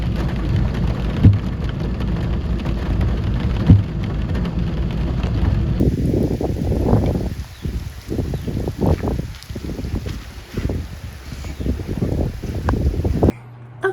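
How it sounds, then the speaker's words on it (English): Steady rain falls in a continuous close hiss during cooler weather, with heavier, uneven bursts of patter in the second half. No one speaks. "Nothing beats the sound of the rain, does it?"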